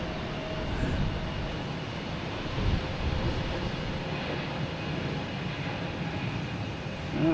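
A JetBlue airliner departing Boston Logan Airport, a continuous rumbling engine roar with a faint high whine, swelling slightly in places and holding steady at a moderate distance.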